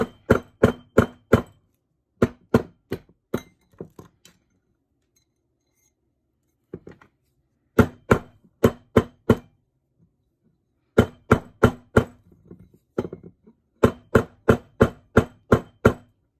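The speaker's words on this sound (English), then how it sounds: "Just hitting it with the hammer." Sharp metallic hammer taps on a silver ring on a mandrel, in quick rhythmic bursts of five or six strikes, pausing between groups, close and bright with ringing metal.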